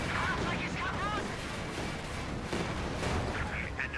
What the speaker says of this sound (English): Panzer IV takes some shots there.